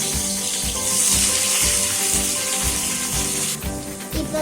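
Onions tipped into a hot oiled pan while cooking a radish curry, a steady close sizzle and frying hiss running throughout with soft clatter, no talking.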